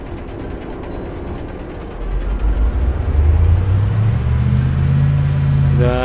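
A KAMAZ-54115 truck engine in a driving game builds from a low idle rumble into a louder, rising growl as it slowly accelerates, with a mechanical whine climbing in pitch toward the end.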